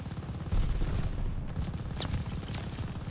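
Rapid bursts of gunfire from the Call of Duty Vanguard campaign crackle continuously, with dense automatic shots overlapping under a noisy battle mix.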